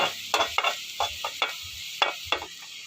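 Sautéed vegetables stirred in a pan for a Filipino ginisang gulay, with about ten quick, crisp scraping strokes in an uneven rhythm over a faint background sizzle.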